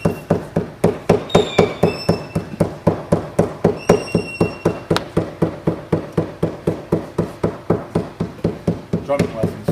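Claw hammer tapping steadily in a fast, even rhythm, dozens of sharp strikes with occasional metallic clinks ringing over them. Loud and close, no talking.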